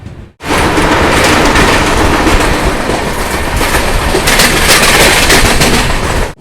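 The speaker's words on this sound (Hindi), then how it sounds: "फिलहाल अपनी नवजीवन एक्सप्रेस रवाना हो चुकी है गुडूर जंक्शन से।" The Navjeevan Express, running from Chennai Central to Ahmedabad Junction, rolls out after leaving Gudur Junction: a loud, continuous roar with rhythmic wheel clatter, heard close from on board, steady and without talk.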